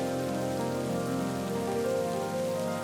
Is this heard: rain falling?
yes